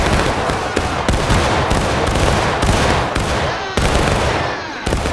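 A musket volley in the video game War of Rights, a line of soldiers firing at will: loud, overlapping cracks and booms come in an uneven run, with smoky rumbling between the shots and faint voices in the background.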